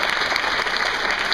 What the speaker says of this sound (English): One more applause for Ryan.